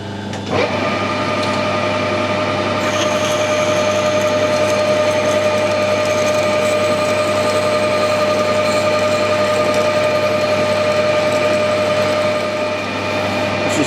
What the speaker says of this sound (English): drill it out, clearance hole for the bolts.